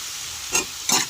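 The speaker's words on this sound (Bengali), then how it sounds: "আর দিয়ে দেবো আমি সামান্য জিরে গুঁড়ো" Cumin powder tossed into a frying crab and pumpkin curry, two brief, close bursts of sizzling hiss over a low background fry.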